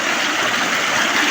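Stream water flowing at a fish trap, a steady bright rushing and gurgling close to the microphone, brief and without talk.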